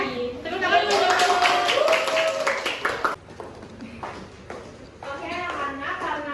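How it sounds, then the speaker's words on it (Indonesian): Children clapping together in a classroom, a dense burst of applause under a teacher's voice for about three seconds, then fading to scattered claps before talk resumes. "Tepuk tangan dulu."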